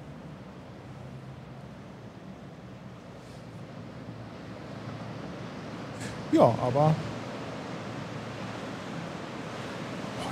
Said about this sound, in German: hör dir mal die Brandung an.